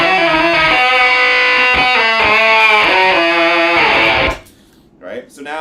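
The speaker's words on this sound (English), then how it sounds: "Then we put the like a Jet 70 or the MSA fuzz into it." An electric guitar drives a Micro Synth pedal stacked with a Jet 70 or MSA fuzz, a dense, saturated synthy riff played loud and close for about four seconds before stopping, followed by faint noise.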